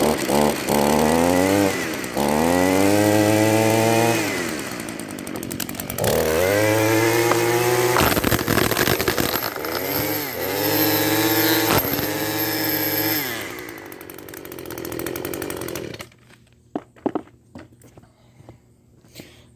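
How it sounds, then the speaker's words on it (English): An old restored Echo string trimmer runs at full throttle with a loud, buzzing two-stroke whine. The pitch drops and rises several times as the head is bumped on cardboard, and then the engine cuts off, leaving a few faint clicks. "I'm gonna start the trimmer up, and then I'm gonna go ahead and bump the head on that cardboard and see if the line comes out"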